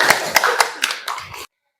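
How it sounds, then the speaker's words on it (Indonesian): Clapping from a small group of students in a classroom for the first group, a handful of distinct, close claps in an uneven rhythm that stop abruptly into silence. "Oke, tepuk tangan dong untuk kelompok 1."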